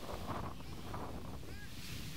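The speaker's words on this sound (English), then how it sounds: "Definitely a windy day here in Mason, Ohio." Wind buffeting a microphone outdoors on a windy day at an Australian football match in Mason, Ohio, a constant low roaring rumble that fills the whole clip.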